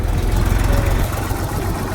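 A tractor engine runs steadily on the way to a garage, a loud, low, rumbling drone with a constant throbbing vibration and no pauses.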